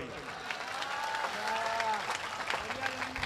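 A crowd claps steadily, with voices blended into the applause throughout.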